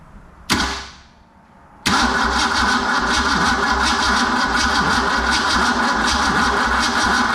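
A 1953 International IHC R-110 truck engine cranks over, with a sharp clunk and fading ring first, then a loud steady mechanical whirring drone that continues evenly up close without talk.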